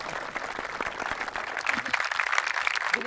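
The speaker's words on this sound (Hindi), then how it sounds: "अपने लिए तालियां।" NCC cadets give a steady round of applause at an indoor event, the clapping continuous and moderately distant, rising slightly toward the end.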